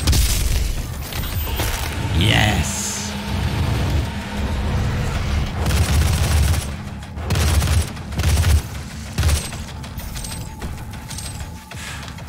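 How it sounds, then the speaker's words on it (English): In the video game Doom, a heavy weapon fires repeatedly as loud booming blasts over a dense, roaring background of game noise, with a brief spoken word. "Let's use this new cannon on ya."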